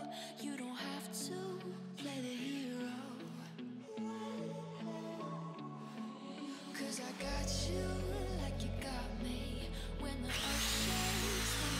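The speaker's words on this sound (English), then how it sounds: "there is a threaded drill attachment that you can chuck up in a drill to speed up the process, as I am doing here" A handheld drill spins a threaded lapping bar inside serrated Leupold scope rings on an AR mount, a steady whirring drone with a grinding rub that shifts in pitch partway through.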